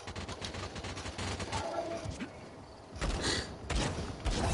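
Video game gunfire crackles in repeated bursts and volleys, loud and dense, with brief gaps between rounds and a voice talking over it.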